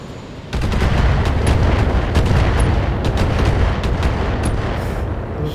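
Turret gunfire in the BattleTech video game: a dense, sustained barrage of loud booming shots that starts abruptly after a brief quiet moment and rolls on continuously with sharp cracks layered over heavy low rumble.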